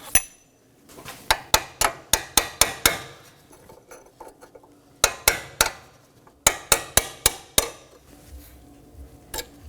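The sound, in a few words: hammer striking chisel on metal clip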